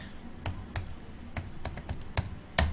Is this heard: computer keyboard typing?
yes